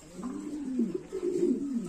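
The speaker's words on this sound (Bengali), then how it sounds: "এখানে আছে অ্যাশ বারলেস কবুতর।" Low, throaty cooing from ash barless pigeons nearby, two warbling phrases rising and falling, with no voices.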